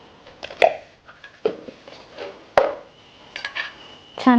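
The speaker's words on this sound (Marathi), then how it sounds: "मिक्स करून घेऊया" A spoon stirs horse gram curry in a metal pot, giving irregular close clinks and taps against the sides, separated by quiet pauses.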